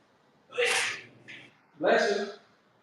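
Two sneezes, one close after the other with a short sharp breath between, loud and near during an exercise session, with some talk around them.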